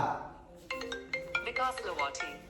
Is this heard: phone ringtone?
yes